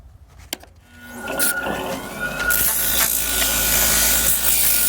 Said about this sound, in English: Now I'm going to try and sand it. I'm going to start with 120 grit and work my way up.